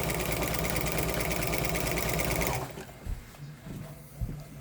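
A sewing machine runs at a steady fast stitch for over two seconds while sewing bummies at matched side seams, then stops, leaving quiet handling sounds of fabric.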